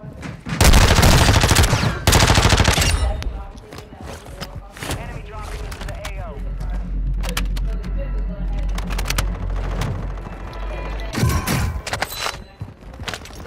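Heavy video-game gunfire roars in loud sustained bursts, with rapid automatic volleys and a few separate shots between them, close and dominant.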